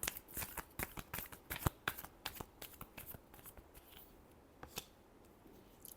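Tarot cards are shuffled by hand close by in quick bursts of crisp riffling and slapping snaps, thick at first and then thinning to a few scattered flicks near the end.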